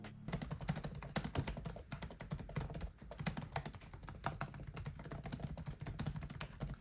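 Rapid, continuous typing on a Lenovo Slim 3 16ABR8 laptop keyboard, close up, with dense overlapping key clicks and no talking.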